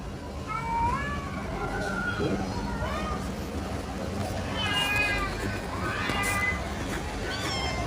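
A cat meows repeatedly in short rising and falling cries, fairly close and clear, several calls spread across the stretch over a steady background hum.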